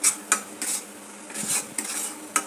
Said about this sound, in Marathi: आता मी याला तेल सुटेपर्यंत चांगलं परतून घेते।